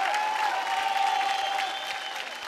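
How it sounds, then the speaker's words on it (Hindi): Studio audience applause at a televised Indian dance competition show, a dense steady clapping that holds loud and near throughout with a sustained tonal whistle or cheer riding over it, then eases slightly toward the end; no talk. "जोरदार तालियां हो जाए लिप्सा के लिए"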